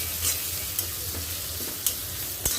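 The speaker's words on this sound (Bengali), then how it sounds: "দিয়ে দিলাম পেঁয়াজ এভাবে রান্না করলে হয় কি সময়টা কম লাগে" Onions fry in a pan for a vegetable dish, giving a continuous close sizzle broken by a few sharp clicks of stirring.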